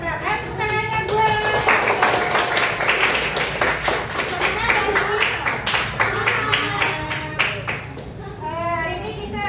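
A class of schoolchildren claps in a fast, steady rhythm during a seventh-grade science lesson, with children's voices chanting along and a teacher speaking over the claps.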